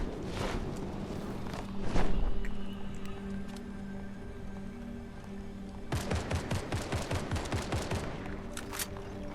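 Gunfire in Fortnite, with a couple of early shots, then a sustained rapid burst of evenly spaced shots over the last few seconds, close and loud with no talk.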